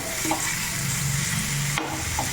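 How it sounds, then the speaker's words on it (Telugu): Beetroot pieces mixed with turmeric and salt are stirred in a hot pan, a soft scraping stir over a steady sizzle, close and alone. "ఈ పసుపు సాల్ట్ బీట్రూట్కి బాగా పట్టేలాగా మిక్స్ చేసుకొని మగ్గించుకోవాలి"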